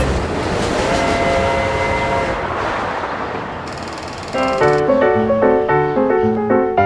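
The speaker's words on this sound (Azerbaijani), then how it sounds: "Bakı, Sabunçu, Suraxanı xəttində ilk elektrik qatarı yola düşdü." A train on the Baku–Sabunchu–Surakhani line, the first electric train on it, rumbles loudly as it gets under way. Partway through, a brief horn-like tone sounds, and rhythmic tonal pulses follow.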